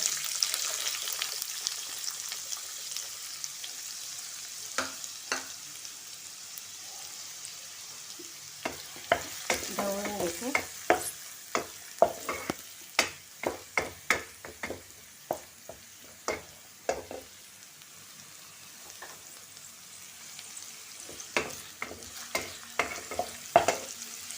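Onion sizzling in hot oil with mustard seeds and curry leaves for a Malvani-style usal, a soft hiss broken by frequent sharp scraping and stirring knocks of a spoon against the pan.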